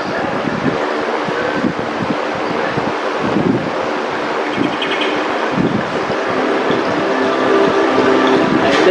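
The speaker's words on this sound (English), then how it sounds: "As you hear the river flowing, you feel more and more relaxed." A river flows with a broad, steady, rushing wash of water, loud and close, mixed with gusty wind noise buffeting the microphone and no talking.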